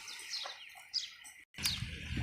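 Small birds chirp in short, bright calls near a water spot at a farm wall, with a brief dropout partway through and steady outdoor background around them.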